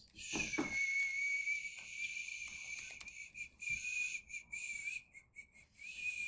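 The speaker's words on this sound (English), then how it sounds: "I've never whistled before" A person whistles a thin, high, wavering tone held nearly steady for several seconds, then breaks into shorter broken bursts, close and fairly clear over quiet background.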